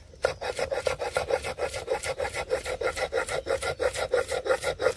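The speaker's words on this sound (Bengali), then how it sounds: "এবারে আমি শিলি ফেলে বেটে নেব।" Raw potato is ground on a flat stone slab (shil) in quick, even back-and-forth strokes, about four rasping scrapes per second. The sound is close and loud, with no talking.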